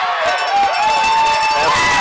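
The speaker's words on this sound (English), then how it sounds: "The crowd liked that one." Crowd at a high school football game, heard on a radio broadcast as a loud, sustained roar of cheering with whistle-like tones and voices mixed in.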